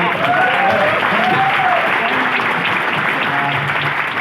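Loud applause fills a hall during a leadership development training conclave, a thick continuous clapping from the audience with faint voices and a few cheers blended underneath.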